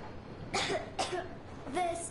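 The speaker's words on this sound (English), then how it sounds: "I have this cough." A child character coughs in the video game Metro Exodus, three dry rasping coughs spaced about half a second apart, close and fairly quiet against a faint background.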